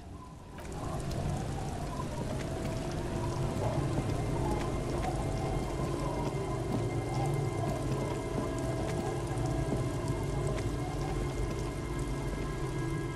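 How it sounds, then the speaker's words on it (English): Steady rain falls in the Disco Elysium game world, a constant wash of drops with low rumbling ambience and faint tonal hum beneath, continuous and even for the whole stretch with no voices. "It's getting late, and it's raining."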